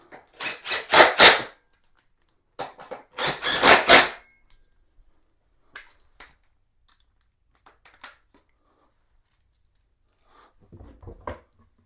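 Bolts are tightened on the seat of a Lifan KPX 250 dual-sport motorcycle: two bursts of rapid ratcheting clicks up close, followed by a few scattered sharp taps and light clinks, then a brief soft rustle.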